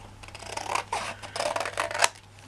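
Scissors snip straight through a paper napkin for envelope decoupage, giving a close run of quick, crisp cuts and rustles with an uneven rhythm and a sharper final snip.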